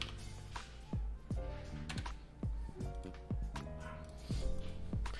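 Irregular keyboard clicks with sharp percussive strikes over a steady low hum, keys tapped in uneven bursts at close range.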